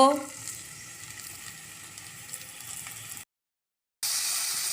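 Onions frying in a little oil in a pan, a steady close sizzle with faint stirring, broken by a second of silence before the sizzle resumes brighter and louder.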